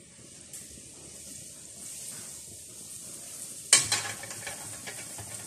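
Kuih ros batter on a rose-shaped mould is dipped slowly into hot oil over a low flame. A soft background hiss bursts into a loud sudden sizzle that crackles and slowly fades.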